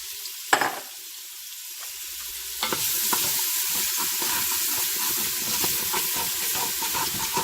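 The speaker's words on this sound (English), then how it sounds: "So now I'm putting in my onions." Onions go into hot oil in an electric pressure cooker on the sauté setting. A thud and clatter are followed by a steady, loud sizzle that holds to the end, with no voices.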